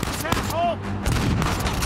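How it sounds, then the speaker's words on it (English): Gunfire in the video game Uncharted 4 during a firefight in Scotland, a burst of game shots mixed with effects and overlapping game voices throughout the short stretch. "Who else is still shooting?"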